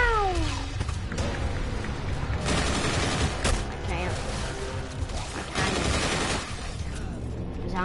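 Rapid gunfire and crashing bursts from the video game Call of Duty: Infinite Warfare during a zombies match, dense and loud throughout, with voices mixed in.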